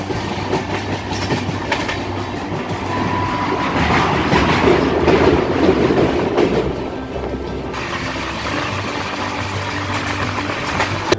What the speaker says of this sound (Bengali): এটি মালগাড়ি সুপারফাস্ট, এই পেট্রোল ওয়াগনকে বলা হয়